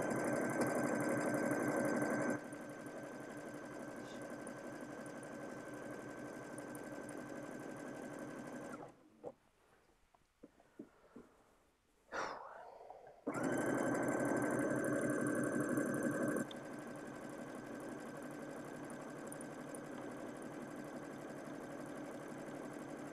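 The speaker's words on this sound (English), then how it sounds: "as I'm edge stitching, I like to make sure it's smooth underneath and hopefully straight" Sewing machine edge stitching fabric, a fast continuous mechanical whir running steadily, pausing briefly amid small handling noises, then resuming at an even, close hum.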